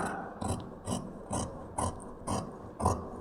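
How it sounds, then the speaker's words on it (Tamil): Fabric being cut by hand for sewing a garment's back panel, a regular series of six short rasping snips, close and distinct, evenly spaced about every half second. "இப்போ இந்த பேக் சைடு நமக்கு வெட்டி எடுத்துடலாம்"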